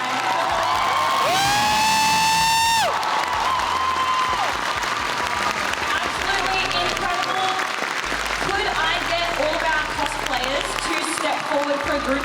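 An audience at the PAX Aus 2025 cosplay championship gives loud, sustained applause mixed with cheers and whoops, while a voice carries over the clapping.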